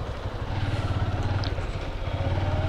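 An old, worn motorcycle engine running steadily nearby, a low throbbing idle-like drone with a faint rattle, heard on a street during Vinayaka Chavithi festivities in Anantapur.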